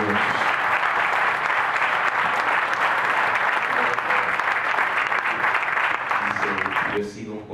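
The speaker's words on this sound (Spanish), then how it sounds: "porque no aplaude al Señor por estos niños" A church congregation applauds warmly at a Father's Day celebration, a sustained, bright clapping with voices mixed in, carrying on for several seconds before fading out abruptly near the end.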